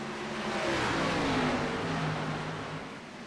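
Race cars scream past at Dover Motor Speedway as a close, loud engine note sweeps through the turn, rising and falling over several seconds with a dense roar beneath it.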